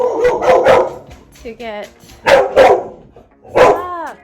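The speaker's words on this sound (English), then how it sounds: "Oh gosh, there's like so many dogs. So many dogs." Several dogs bark in loud bursts of yips and bow-wows, with whimpering tones in between, while someone talks over them indoors.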